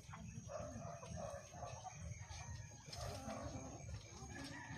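Chickens clucking on a small backyard poultry farm with laying hens and ducks, a faint continuous murmur of fowl with a possible distant rooster crow, low and muffled.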